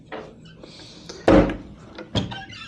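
Hotel room drawers on the 39th floor of the Palazzo are pulled open, giving a loud wooden thunk in the middle and a second, softer knock shortly after, with quiet room noise between them.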